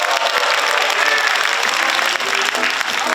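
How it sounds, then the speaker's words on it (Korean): An audience at a Democratic Party listening-tour event in Jeonbuk gives a party member a burst of applause, with dense, steady clapping that fills the hall. "권정숙 당원님께 다시 한번 큰 박수 부탁드립니다"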